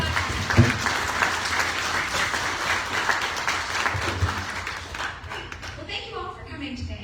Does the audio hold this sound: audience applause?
yes